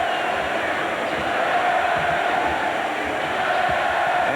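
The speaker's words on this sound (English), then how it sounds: "the crowd begins another sarcastic chant of "Reggie, Reggie," mocking what they do at Market Square" A crowd at a 1998 NBA playoff basketball game, a loud, dense roar of massed voices chanting sarcastically and cheering together, filling the arena without letting up.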